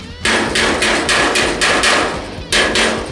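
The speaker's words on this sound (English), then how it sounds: "Take your hammer and go back over any spots that's still sticking up, knock it down." A hammer strikes bare sheet metal on the cab of a 1947 Ford truck, knocking down raised welded stitches; about eight loud, ringing blows in a fairly even rhythm, close up.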